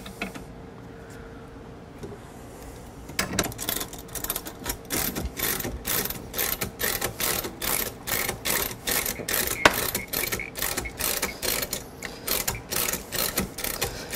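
A golf club shaft extractor is ratcheted tight in a workshop, producing a long run of quick, regular metallic clicks at close range after a few quieter seconds, with no talking.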